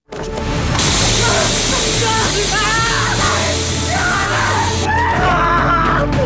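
A man screams and bellows in pain in an action film, a loud sustained cry that wavers and strains across several seconds over a dense noisy soundtrack.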